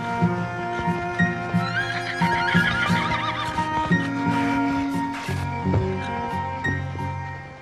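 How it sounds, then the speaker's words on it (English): A horse whinnies loudly and close, a drawn-out shrill neigh with quavering pitch, accompanied by hoof clip-clops and faint jingling of tack. "And one day, Bonnie Bell was sent to Halifax to be sold along with the other horses."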